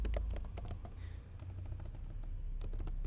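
Fingers type JavaScript code on a computer keyboard in quick, uneven bursts of soft clicks, close but quiet, with no voices.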